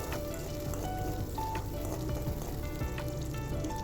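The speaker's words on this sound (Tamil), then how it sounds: "வெங்காயம் வெள்ளைப்பூடு கருவேப்பிலை இது எல்லாத்தையும் சேர்த்துட்டு நல்லா வந்து ஒரு டைம் வதக்கி" A steady oily sizzle of onions, garlic and curry leaves frying in oil in a pan, with occasional soft scraping and stirring, close and continuous.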